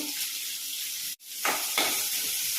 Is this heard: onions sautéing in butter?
yes